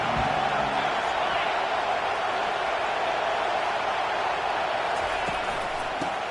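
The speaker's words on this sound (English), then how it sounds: "This crowd bringing an ear-splitting welcome to their visitors" A packed football stadium crowd roars in a loud, sustained wall of noise, steady throughout with a few sharper spikes near the end.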